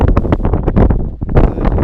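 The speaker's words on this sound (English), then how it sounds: "It's very windy, so I'm not sure you can hear me." Strong gusts buffet the microphone at a campsite in Haugastøl, Norway, producing loud, irregular low rumbling bursts that continue without a break.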